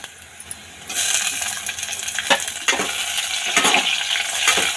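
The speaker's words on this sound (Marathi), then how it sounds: "आता आपण त्यामध्ये टोमॅटो टाकून घेऊया" Chopped tomatoes go into a pan of browned onions frying for a fish thali, setting off a steady sizzle with scraping and stirring clatter that builds after a quiet first second, with no talking.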